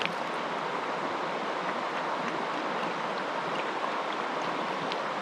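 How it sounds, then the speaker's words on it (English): The Hidakawa River in rural Japan flowing as a steady, broad rushing wash, loud and continuous without pause or talk. "this is the Hidakawa River"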